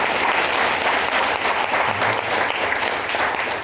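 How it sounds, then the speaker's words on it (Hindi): A church congregation claps loudly and steadily throughout, a dense sustained applause from a crowd. "आइए यीशु के लिए जोर से ताली बजाएं"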